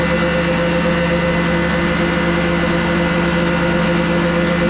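A DeWALT DW735 benchtop planer runs loud and steady while planing wood, taking off three hundredths of an inch per pass, a constant whining machine drone close by with no talk.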